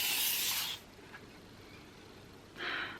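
An Airwick Pure mulled wine air freshener sprays in two short hissing bursts, the first lasting most of a second and the second brief, close by in a quiet room.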